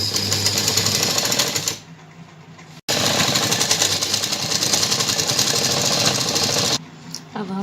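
Sewing machine stitching the lining of a bridal lehenga with diamond embellishments: a loud, steady whirring run, a pause of about a second, then a longer burst that stops abruptly near the end.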